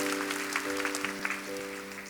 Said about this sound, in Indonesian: Beri tepuk tangan yang meriah untuk Tuhan.